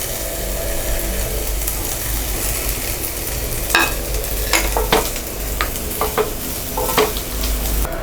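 Green chillies and coconut fry lightly in a pan with a steady sizzle, broken by several sharp scraping and clinking strokes of a spatula in the second half, with nobody talking.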